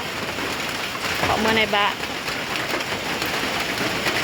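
Rain falls beside a chicken coop on a rural farm where cattle are kept, a steady close hiss of drops throughout with a brief voice heard partway in.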